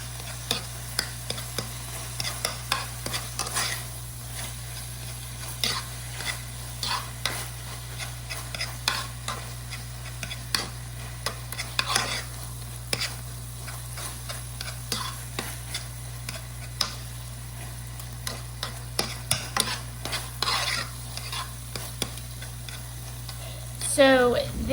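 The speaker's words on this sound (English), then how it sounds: "you're just going to stir it like this. See how it's breaking apart and melting together?" Cream cheese and sausage are stirred together as they melt in a pan, a spoon scraping and tapping steadily over a soft continuous sizzle and a low background hum, close up with no talking.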